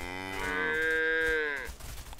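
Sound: cows mooing in a video game

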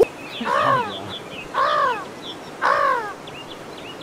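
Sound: birds cawing in video game Escape from Tarkov

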